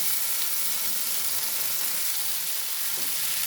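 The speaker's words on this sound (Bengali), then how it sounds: "দিয়ে আমি এই সাবুগুলো যে ভিজিয়ে রেখেছিলাম সেগুলো ভালো করে ভেজে নেব" Soaked sago pearls frying in ghee in a pan over a low flame make a continuous soft hiss and sizzle that stays even throughout, with faint stirring and no voices.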